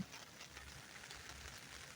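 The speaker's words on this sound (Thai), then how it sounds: "ฝนตกยังไม่หยุดเลย" Steady rain falling at a family campsite in Hiroshima, Japan, a soft continuous patter heard throughout, faint and even, with no voices.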